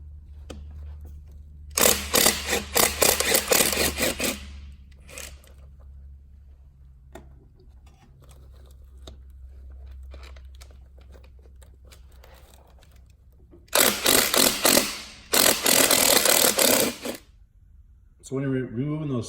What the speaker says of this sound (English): Starting off, we'll be removing the side cap, which takes a T25 Torx on the two screws there.